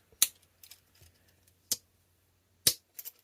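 A Rosecraft keychain knife with a D2 steel blade and a half stop is opened and closed, giving a few sharp, crisp metallic clicks and snaps close to the mic, spaced apart with quiet between them.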